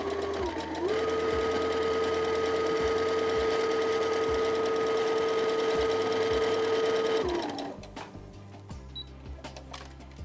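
A sewing machine stitches a straight 1 cm seam in fabric, running as one steady, fast motor whir with rapid rhythmic needle clatter close up for about seven seconds, then slowing to a stop and leaving faint handling clicks.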